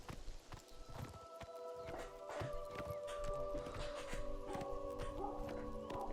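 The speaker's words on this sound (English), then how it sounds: "I won't ride too fast so Martin can keep up" Horse hooves clip-clop at an unhurried pace through a forest in the Oblivion Remastered video game, a steady soft rhythm under ambient game sound and faint music.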